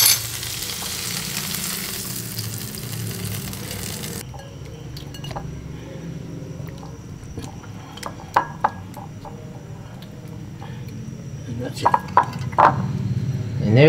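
Filipino eggplant omelette frying in a skillet, a strong sizzle that drops in level partway through, then quieter frying with a few sharp clinks of utensils, while a person talks over it.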